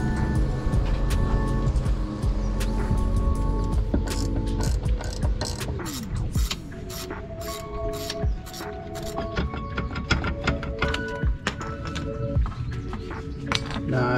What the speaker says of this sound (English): Tightening up the sway bar.